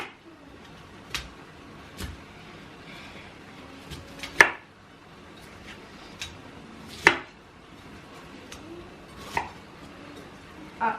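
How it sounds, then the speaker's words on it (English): A knife cuts small produce off the stem in a home kitchen. Sharp chopping taps against a board come at irregular intervals of about one to two seconds, close by and moderately loud. "I'm going to double cut them and put them in here"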